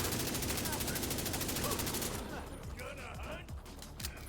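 Rapid bursts of video-game gunfire, shotgun blasts among them, fill the first two seconds loud and dense, then thin to scattered shots under a speaking voice.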